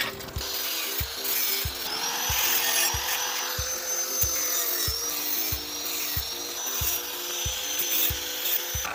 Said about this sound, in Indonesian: Setelah itu tinggal teman-teman gerinda di bagian yang lancip ini keliling supaya tidak melukai orang.